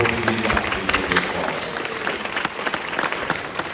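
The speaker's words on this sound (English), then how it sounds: "give yourselves a round of applause for being here for this special occasion" An audience at a Special Olympics dancesport exhibition applauds, dense steady clapping and some cheering filling the room at an even level throughout.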